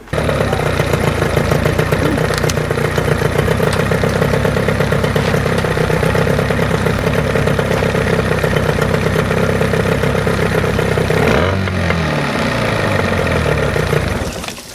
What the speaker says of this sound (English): Music to the ears, hearing that engine run.